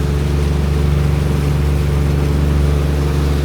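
A fishing boat engine runs steadily at sea before dawn. The drone is loud, low and constant and stays close for the whole stretch. No one speaks.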